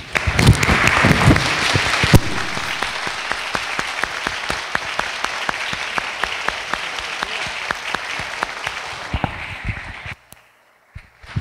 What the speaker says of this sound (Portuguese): pedir uma salva de palmas para todos os nossos professores